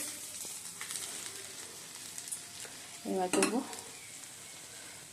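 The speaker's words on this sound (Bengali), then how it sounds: "পাবদা মাছটা ভেজে নিচ্ছি" Pabda fish fry in a pan with a steady hiss and crackle of hot oil. A short burst of stirring or handling noise breaks in partway through, and a voice says a few words.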